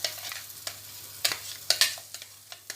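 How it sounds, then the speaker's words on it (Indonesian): Blended rawon spice paste sautéed in a pan, with a soft sizzle under a series of sharp stirring scrapes and bursts coming at uneven intervals, close and fairly loud. "Selanjutnya kita tumis ya,"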